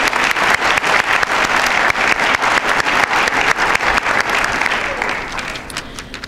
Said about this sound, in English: So let's give ourselves a hand of applause.